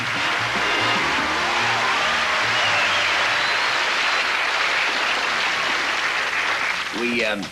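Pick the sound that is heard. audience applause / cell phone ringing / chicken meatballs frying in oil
audience applause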